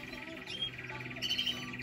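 Small aviary birds chirp and tweet steadily in a busy chorus of short calls at moderate level, with faint room noise underneath and no talking.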